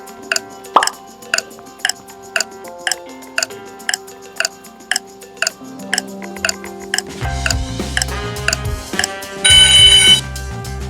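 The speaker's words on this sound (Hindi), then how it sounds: "इसके लिए आपको 10 सेकंड का टाइमर मिलेगा" Countdown timer for a ten-second emoji guessing quiz, ticking in a steady loud rhythm about once per second, with chiming tones building underneath and a bright ringing alarm burst near the end; no voices.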